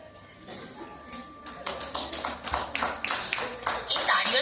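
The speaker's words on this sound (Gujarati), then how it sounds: "એ તાળીઓ તો વગાડો." Scattered audience clapping at a Diwali New Year Sneha Milan gathering, starting thin and building into a denser patter of hands, with some talk beneath it.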